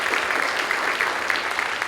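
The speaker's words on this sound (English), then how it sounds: "Let's give Ed a round of applause." A school awards-program audience applauds steadily, a dense continuous clapping from a crowd held for the whole short stretch.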